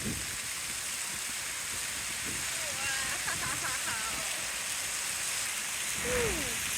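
Water sprays steadily from a fountain near Romania's parliament in Bucharest, a continuous hiss blown about by the wind, with faint voices and brief background sounds over it.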